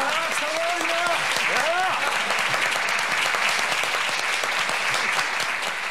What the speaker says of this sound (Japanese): 大拍手の中舞台に上がった